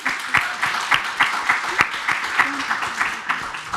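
Audience applause at an art prize panel event, a rhythmic run of claps, some single hands standing out, moderately loud, with a voice talking faintly underneath.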